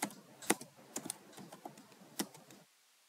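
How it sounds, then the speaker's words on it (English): Quick, irregular clicks of keys tapped on a computer keyboard, close and fairly quiet, with short bursts and pauses and no talking. "So type npm init in our PowerShell at the bottom here."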